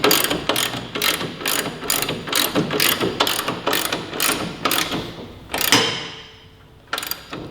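A ratchet wrench clicks in a quick steady rhythm while tightening the rear axle nut on a Yamaha R3 sportbike, loud and close, pausing briefly before a final few clicks.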